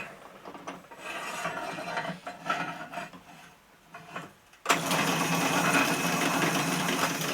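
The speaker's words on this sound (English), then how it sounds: "Probably should slow it down a little bit for the bigger drill." A drill grinds and rasps intermittently as it bores through metal, then a loud machine starts abruptly and runs steadily, close by, with no voices.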